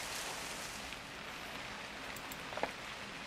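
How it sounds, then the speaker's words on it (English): Steady rain falls in a home-alone video game, a soft continuous hiss with a few faint drip-like ticks near the end, no voices. "Oh, yeah, it's raining. It is raining."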